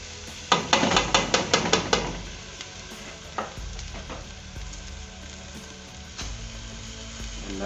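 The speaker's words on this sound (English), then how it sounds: "We're gonna fry this rice of ours." Washed rice fries in a sufuria for vegetable fried rice, with a steady close sizzle; a quick run of sharp spoon clanks against the pot opens the sound, then softer scraping stirs continue under the hiss.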